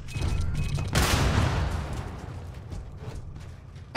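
Shotgun fire in the video game Starfield: a loud blast about one second in rings into a broad, decaying roar, followed by fainter clicks and mechanical sounds and a sharp burst at the end.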